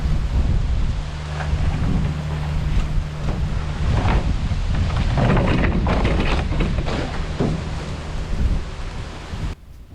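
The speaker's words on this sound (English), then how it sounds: "That's the wind right there picking that tripod up, about to blow it over." Strong storm wind gusts outdoors at a red oak removal site, buffeting the microphone with loud rumbling roar that swells and surges for several seconds, then cuts off abruptly near the end.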